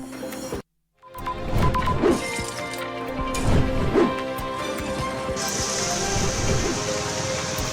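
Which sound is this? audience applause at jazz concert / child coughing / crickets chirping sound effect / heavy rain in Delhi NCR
heavy rain in Delhi NCR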